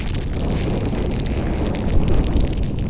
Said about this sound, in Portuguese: o vento soprava ferozmente sobre a planície